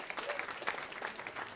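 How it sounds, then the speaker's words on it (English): Brief, dense clapping from an audience at a panel celebrating regenerative agriculture, moderately loud and steady across a short stretch with no voices. "Give her a round of applause"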